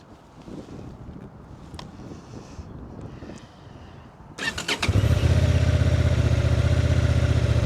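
2025 Honda Transalp 750 motorcycle engine cranks over amid wind noise and fires up into a loud, steady, close burbling idle.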